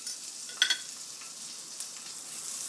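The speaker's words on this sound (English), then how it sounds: "you add a dab of butter in the center, and you let the butter brown and sizzle" Butter browning in a hot crepe pan gives a soft, steady sizzle with a few brief crackling pops near the start, alone and fairly quiet.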